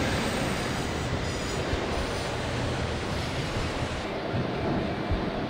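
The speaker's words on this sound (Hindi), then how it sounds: "ट्रेन इतनी धीरे क्यों चल रही है यार रतलाम जंक्शन पे" A train in Indian Train Simulator (MSTS) near Ratlam Junction runs slowly with a steady, dense rolling roar and rushing noise, continuous and loud throughout.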